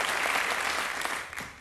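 Applause from a studio audience at a German television variety show, a dense steady patter of many hands clapping at moderate volume throughout, with no voices over it.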